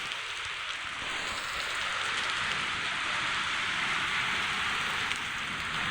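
Heavy night-time rain shower with thunder at Gopalapuram, falling as a steady, loud, dense hiss with no clear thunderclap standing out and no voices.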